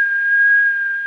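A steady whistled tone is fed into a Uniden Uniace 200 UK CB mobile radio transmitter during alignment, held as one clear continuous pitch for about a second with no talk over it.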